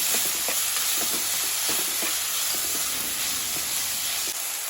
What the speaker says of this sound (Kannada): ಇದನ್ನು ಮತ್ತೊಮ್ಮೆ ಫ್ರೈ ಮಾಡ್ಕೊಳ್ತೇನೆ ಹಾಗೆ ಚಿಕ್ಕದಾಗಿ ಹೆಚ್ಚಿಟ್ಕೊಂಡಿರುವಂಥ ಟೊಮೆಟೊ ಇದು ಸ್ವಲ್ಪ ಮೆತ್ತಗಾಗಬೇಕು